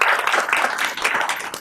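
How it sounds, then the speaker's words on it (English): A brief burst of applause from a board work session audience, with close, choppy hand claps swelling and dipping over a second and a half. "we'll give them a round of applause"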